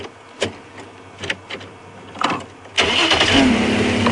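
A safari vehicle on a game drive at Djuma Game Reserve: a few clicks and clunks first, then the engine catches at about three seconds and settles into a loud, steady running drone, close by, with no talking.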